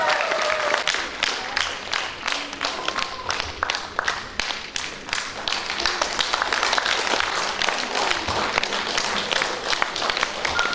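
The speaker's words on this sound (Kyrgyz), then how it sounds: "сиздердин жалпы ыраазычылык кол чабууларыңыздар" An audience applauds at a poetry evening for Umar Nusubaliev and friends, with dense, steady clapping throughout and faint voices mixed in.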